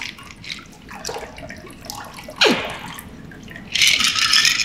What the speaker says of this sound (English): you're gonna pour it into your chilled passion martini glass